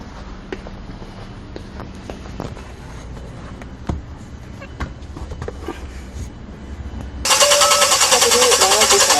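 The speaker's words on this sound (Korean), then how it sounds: "시동도 이제 아예 걸리지 않습니다." A 2020 Kia Bongo 3 with a severe engine misfire and a no-start condition, its starter cranking without the engine catching. A loud, steady whirring burst sets in near the end after a stretch of quieter clicks and background noise.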